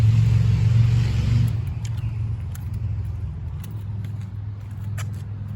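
A Corvette C5 Z06 with a MagnaFlow exhaust rumbles loudly and deeply at first, then settles into a lower, steady idle with faint ticks above it.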